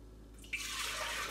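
Coconut milk pours into a glass container for homemade yogurt, a sudden liquid splash starting midway and settling into a steady, close pouring rush.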